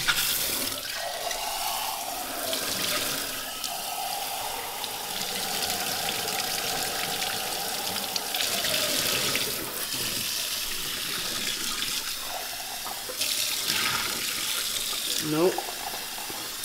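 Hot water runs from a tap into a sink while beer glasses are being washed, a steady splashing rush with shifting gurgles as the flow hits the glass, and people talk over it.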